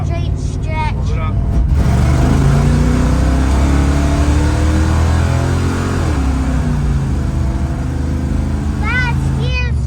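A 1980 Pontiac LeMans engine revs hard and steady through a drift on a snowy straight stretch, its loud droning pitch climbing and sliding throughout, with voices talking over it.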